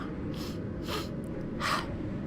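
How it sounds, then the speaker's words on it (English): Repeated sniffles and snorting breaths from a person with a runny nose after eating spicy food, three short bursts of nasal air over steady background noise, close and fairly quiet. "Try to keep my sniffling to a minimum"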